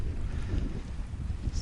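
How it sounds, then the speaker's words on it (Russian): Strengthening winter wind outdoors at a frozen fishing spot, a low rumbling buffeting against the microphone, steady and fairly loud with gusty swells and no speech. "Ветер усиливается,"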